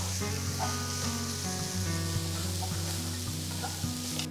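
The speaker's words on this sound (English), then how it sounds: "Saute the onions for about 2 to 3 minutes." Onions with finely chopped carrot and cabbage sauté in a pan for a mixed vegetable paratha filling, giving a steady, close sizzle with faint scraping stirs throughout.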